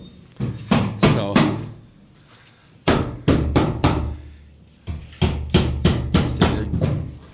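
Workers hammer old plywood into a flat roof deck, loud sharp hammer blows in quick bursts of three to five strikes separated by short pauses, close by and without speech.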